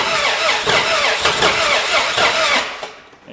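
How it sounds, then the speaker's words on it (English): An old, long-abandoned Mopar engine cranks over steadily with a rhythmic, pulsing starter whir and a few uneven hints of firing, loud and close, then cuts off near the end. "That thing cranks a lot better."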